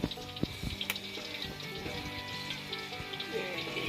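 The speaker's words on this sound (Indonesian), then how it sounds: "Ini jadi chefnya ini lagi goreng tempe." Tempeh frying in a pan over a traditional cooking setup at a forest camp in Kalimantan, a steady crackling sizzle with some clatter, heard under people talking.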